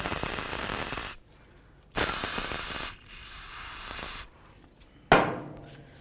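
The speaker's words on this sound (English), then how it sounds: "I'm going to spray some of my parts cleaner right inside there." An aerosol can of parts cleaner sprays in three long hissing bursts with pauses between, close and loud, during a Jeep Wrangler rear brake job, followed by a sharp metallic clack.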